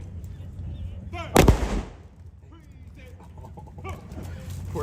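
A single loud gun or cannon blast booms close by on command, followed by a decaying rumble, with honking geese or ducks and people's voices in the background.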